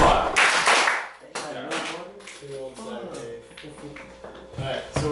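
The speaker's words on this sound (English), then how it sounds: "Let's give Ron his clap though" A short burst of clapping in a sales office meeting, a small group applauding together for about a second, followed by people talking.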